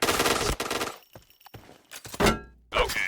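Bursts of T77 rifle fire in the shooter game Point Blank, loud close shots in short volleys with brief pauses between them, no voices over the firing.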